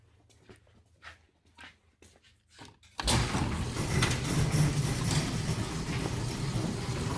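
A sweet little dog on a leash on a family farm pants and whimpers softly in short, quiet bursts, then a loud, steady rumble of a door or machinery opening swamps the scene.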